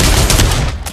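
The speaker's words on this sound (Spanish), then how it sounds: "Disparo doble" A double gunshot from the VR shooter game Pavlov, a loud, close, harsh blast of gunfire filling the short moment on its own with no talk.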